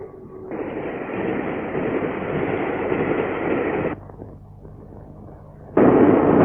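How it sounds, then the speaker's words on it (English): A steam train runs at speed in a 1938 film soundtrack: a steady, loud rushing roar that drops to a quieter rumble, then returns abruptly at full strength. "Train hurries northward."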